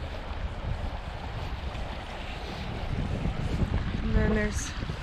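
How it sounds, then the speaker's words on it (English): Small rapids at the end of Brennan Lake, on a wilderness canoe route along the Allanwater River, give off a steady broadband rush of water, close and continuous, with wind buffeting the microphone and a short tonal chirp near the end. "Little rapids here."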